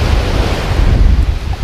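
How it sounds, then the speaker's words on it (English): Strong wind on a Jamaican beach during surf fishing, with a heavy, continuous low roar and buffeting against the microphone, mixed with the hiss of surf. "it's getting windy. The wind is getting very strong"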